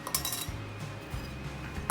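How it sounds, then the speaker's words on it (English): Coconut pieces go into a metal grinder jar with a few bright clinks and rattles, close and fairly quiet in a home kitchen. "I'm putting this coconut in this grinder jar"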